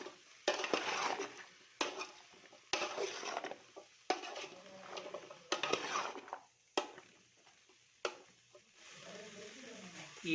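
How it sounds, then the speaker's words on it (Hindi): A spoon stirs and mixes bottle gourd (pethe) curry in a metal pot, giving sharp, repeated scraping clanks roughly every second or two, each trailing into softer rustling, close and fairly quiet. "इसको करेंगे मिक्स जी।"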